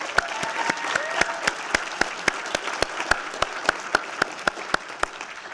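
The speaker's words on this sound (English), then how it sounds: "give everyone here at the Case community a huge round of applause" Audience applause at a conference closing session: sustained, fairly dense clapping from a crowd, with sharper individual claps popping out at a steady pace for several seconds.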